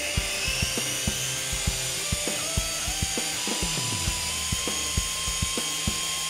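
A small S107 three-channel RC helicopter flies indoors, its rotors giving a steady close whining buzz with a regular ticking pulse and a brief pitch dip midway.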